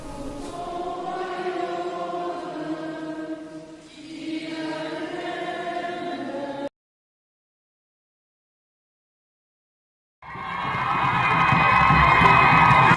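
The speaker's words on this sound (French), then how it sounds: "Une procession joyeuse, ici dans les rues de la Riviera Bonoumé" A joyful Palm Sunday procession crowd acclaims through the streets of Riviera Bonoumé, waving branches: loud massed voices and cheering with shouts, broken by a few seconds of silence before the crowd swells back in, louder.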